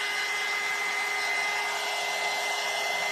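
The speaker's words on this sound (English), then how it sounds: "This thing has some suction to it, that's for sure. It's like a blow dryer." Steady, loud blower drying an iguana: a constant whooshing roar with a faint high whine running through it, unbroken and alone.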